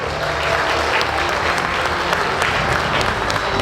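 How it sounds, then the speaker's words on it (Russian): A concert audience at a 2023 children's art school event in Saran applauds the Samgau dance ensemble, with dense, steady clapping from many hands that stays loud and even throughout. "Ваши аплодисменты!"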